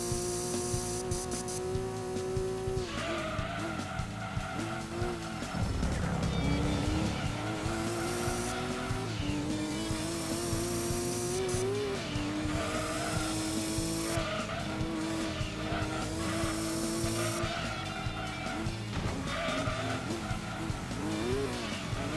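Race car engine in Gran Turismo 2 on a final lap, a steady droning whine rising and falling through gear changes, with repeated loud tire squeals and skids layered over it.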